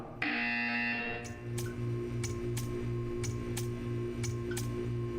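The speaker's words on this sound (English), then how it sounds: "You will hear a buzzer." A loud buzzer tone sounds at the start in the VR video game Aperture VR, followed by a steady electronic hum with regular ticking clicks repeating about every half second.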